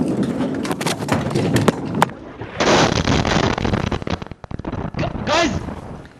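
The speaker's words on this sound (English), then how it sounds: "The powerful airstrikes were captured live on television." Israeli airstrikes on Damascus near the Defence Ministry headquarters, heard in a live television feed as loud rumbling blast bursts with crackling debris and roaring noise.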